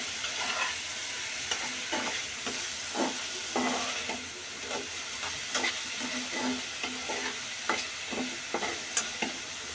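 Bitter gourd with salt and turmeric fries in a pan under a constant sizzle, while a utensil scrapes and stirs in repeated close strokes throughout.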